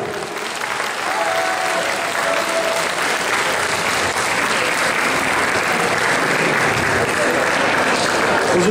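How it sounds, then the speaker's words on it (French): A festival audience at Mangame Fréjus applauds throughout a stage show, with dense, steady clapping from a large crowd continuing evenly from start to finish, while a voice talks faintly over the applause. "on vient maintenant en gare du Grand 8 sous les applaudissements du public."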